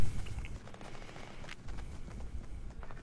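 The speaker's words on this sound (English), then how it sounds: "I can hear gunfire going off, so I need to get out of the way here." Video game gunfire crackles in scattered, fairly faint bursts amid low rumbling ambience and soft movement noise, the shots sounding distant rather than close.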